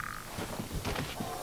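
A frog croaks in the Dark Souls video game, in the Darkroot Garden area, with a few short throaty croaks close by over a steady bed of game ambience.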